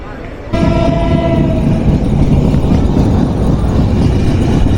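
The Chitra Express intercity train starts off at Tongi railway junction with a loud rumbling roar that begins suddenly after a quiet moment, and a brief horn-like tone rings out early, with voices faint under the noise.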